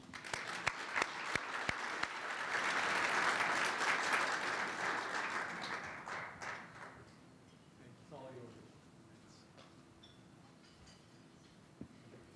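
Enthusiastic applause from a luncheon audience greets a speaker, swelling to a dense roar of clapping, then thinning out and fading as the room settles, with faint murmurs near the end.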